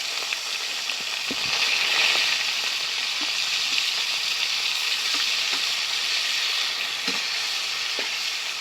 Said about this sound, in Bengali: কপিগুলো আমি অল্প অল্প করে দিয়ে ভালো করে ভেজে নেব।